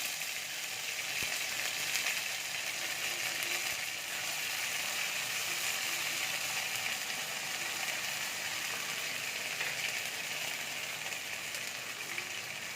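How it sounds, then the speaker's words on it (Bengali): Whole cumin, bay leaf, chilli and spices sizzling in hot oil for a Bengali coconut chana dal, a steady, loud, continuous frying hiss with no voices. "গোটা জিরে দিয়ে দিচ্ছি, মশলাটা দিয়ে দিচ্ছি।"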